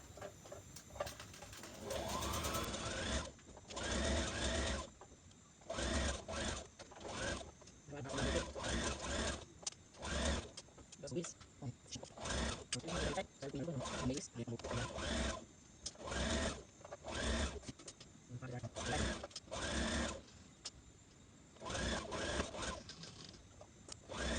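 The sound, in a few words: sewing machine stitching a dress sleeve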